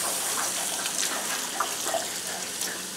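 Hot water runs from a kitchen sink tap onto cornstarch packing material, a steady close hiss and splash with small irregular drips and spatters throughout.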